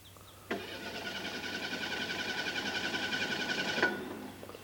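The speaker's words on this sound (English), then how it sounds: "What's wrong with the car? This thing hasn't run right ever since we were in Salem Cemetery." A car engine struggles to start, cranking in a long, steady, whirring grind for about three seconds before cutting off, moderately loud and close with a faint background hum.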